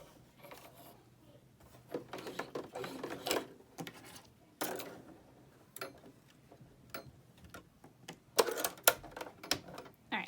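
A sewing machine stitches through paper in short bursts of rapid mechanical clatter, separated by quiet pauses, close and fairly faint.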